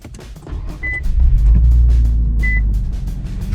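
Infiniti Q50 engine started for the first time with Megan lower downpipes, heard from inside the cabin: a low rumble swells within a second and settles into a steady muffled idle, with two short beeps.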